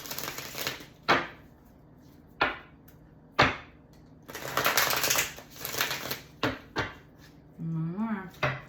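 Tarot cards are shuffled in short riffling bursts separated by sharp taps and pauses, fairly close, with a brief voice murmur near the end.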